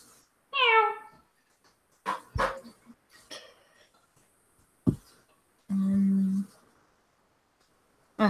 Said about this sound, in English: Encouraging the cats to meow at the moment.